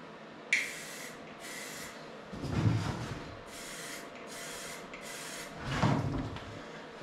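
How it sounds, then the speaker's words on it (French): Aerosol spray paint can fitted with a trigger handle, used at home to paint car mirrors: a series of close, short hissing bursts repeats steadily, with soft handling knocks between them. "Et quand on appuie sur la gâchette, ça appuie sur le dessus de la tête."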